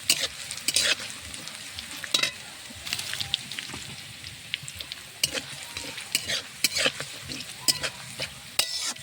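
Garlic, nigella and fennel seeds with dried chilli sizzle and crackle steadily in hot oil in a pan, while a utensil stirs and scrapes through them in quick, irregular strokes, close and fairly quiet.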